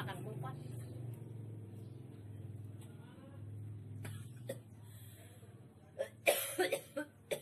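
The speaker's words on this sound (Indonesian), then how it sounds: "Itu adalah batuknya pembeli ya" A customer coughs at a roadside pecel kupat food stall, a few sharp coughs near the end after a stretch of talk, with a steady low traffic rumble in the background.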